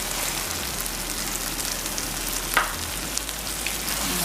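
Tomato added to a hot pan of oil for a Guyanese shrimp dish, a steady close sizzle and crackle of frying with a brief clack of utensil, no talking.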